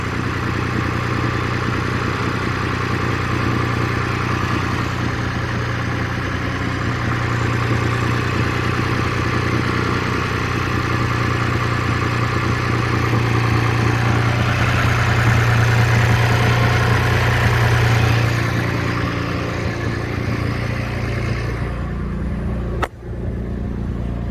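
Engine of a Lexus running steadily close by after a fuel rail pressure sensor replacement, a low droning idle that swells slightly in the middle as it is revved, then a brief click near the end; no talking.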